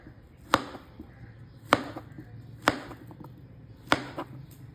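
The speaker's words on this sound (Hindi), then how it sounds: "ये मैंने अंबर खजूर लिया है, सऊदीया की जो सौगात है, बहुत मज़े की खजूर होती है। ये देखें, मैं इसको जूलियन कट कर लूँगा" A knife chops Saudi Ambar dates into julienne strips on a board for a creamy fruit chaat, four sharp, evenly spaced cuts ringing out close and clear against a quiet background.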